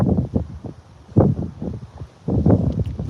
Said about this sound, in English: it's because it's windy out here